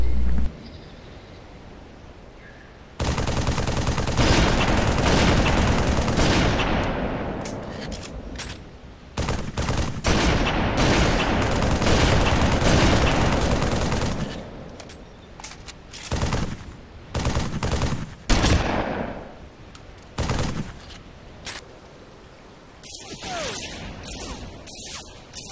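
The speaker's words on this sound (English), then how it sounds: "Let's shoot it!" Loud, sustained bursts of automatic gunfire aimed at a monster in the video game Halo, with dense rattling stretches broken by short gaps and sharp single hits.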